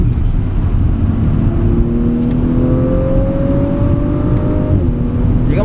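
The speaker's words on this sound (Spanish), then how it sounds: "Es maravilloso el andar de este Audi" An Audi RS5 Coupé accelerates hard on a race track, its loud engine note rising steadily through the revs, with one gear change partway through and a continuous close roar.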